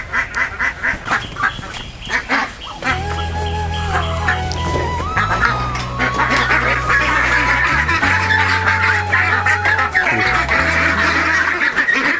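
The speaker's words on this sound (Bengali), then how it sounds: "এটি হচ্ছে পিকিন স্টার তেরো হাঁস" Pekin Star 13 ducks quack in a busy, overlapping chorus of nasal calls, close and fairly loud, running throughout over a steady tonal background sound.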